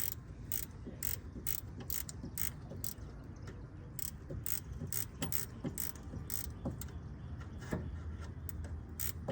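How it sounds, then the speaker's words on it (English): Ratchet wrench clicking in a steady run of sharp, evenly spaced ticks while working on a 2008 Ford Edge during an AC compressor replacement, close and fairly faint, no talk. "ratchet wrench."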